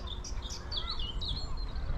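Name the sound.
birds singing at Frensham Great Pond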